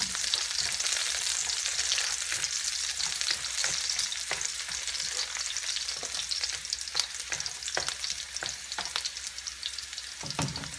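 Garlic frying in a pan for ginataan crackles and sputters close up with a continuous hiss, punctuated by repeated scrapes and taps of stirring, with no one speaking.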